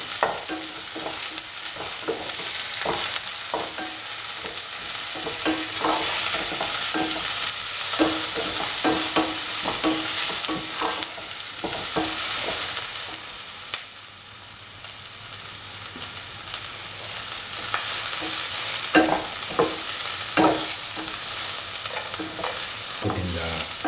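Onions sauté in a hot pan toward golden brown, a loud continuous sizzle under frequent scraping strokes of a spatula, close and steady throughout with no voices.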